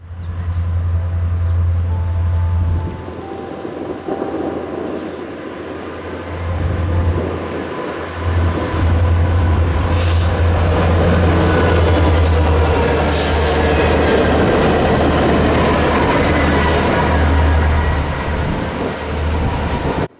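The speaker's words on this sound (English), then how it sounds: "Yeah, a train showed up." A train led by ACU locomotives rolls past in Altoona, Pennsylvania, a steady loud rumble of wheels on rail with intermittent high squeals and clicking over the joints, continuous for about twenty seconds.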